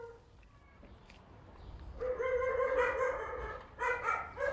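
Stray dogs bark at a shelter in Sulaymaniyah, Kurdistan, a cluster of sharp, loud, overlapping barks and yips arriving in two bursts after a quieter start.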